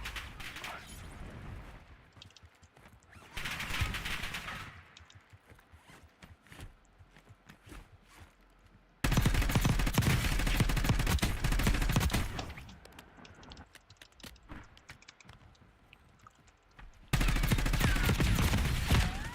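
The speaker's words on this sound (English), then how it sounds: "All right, they're shooting at each other." Players trade gunfire in Warzone, with bursts of rapid shots in loud stretches broken by quieter gaps, heard from a distance in a solo match.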